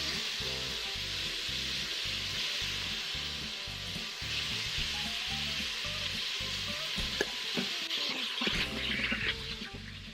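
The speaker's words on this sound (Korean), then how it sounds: "으신 고기 아무거나 이렇게 넣고 볶아줄 거예요" Beef stir-fries in an Instant Pot, seasoned with salt, giving a continuous close sizzle with rhythmic scraping and stirring strokes and a few clinks near the end.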